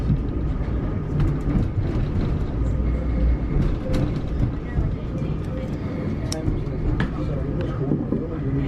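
Riding aboard a Vivarail train to Bedford: a constant rumble of wheels and motors fills the carriage, with occasional clicks and muffled voices underneath.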